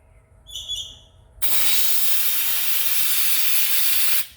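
Compressed air and water blast from an air compressor condenser drain valve: a loud, steady hiss and spray bursts on suddenly after a few faint clicks, roaring for about three seconds before cutting off abruptly.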